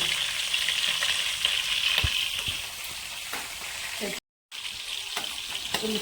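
Green chillies, curry leaves, garlic, cumin and onion frying in a pan, a loud continuous sizzle with occasional stirring clicks and a momentary dropout near the end.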